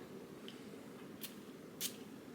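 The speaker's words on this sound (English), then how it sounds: "Let me spray a little bit." Two short hissing puffs from a perfume bottle's atomizer, faint and close, about half a second apart against quiet background noise.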